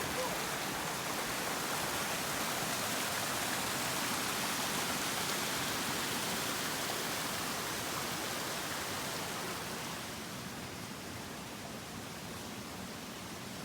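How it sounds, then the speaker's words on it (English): Spring water pours out of a cliff face at Horton Spring in Arizona, a dense, even rushing hiss that holds steady, easing slightly toward the end, with no voices. "Where's this water coming from? Cliff! Just right out from the cliff."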